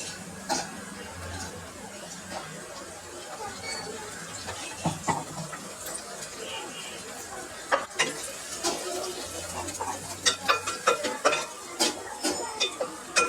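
Ground coconut and tomato paste sautéing in oil for a beef gravy, a low steady sizzle with scattered spatula scrapes and clicks against the pan that grow more frequent toward the end.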